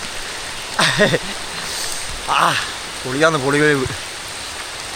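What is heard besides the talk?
rain falling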